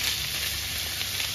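Garlic frying in oil in a pan while making carbonara gives a steady, close sizzle and hiss with no pauses, alone and with no talk.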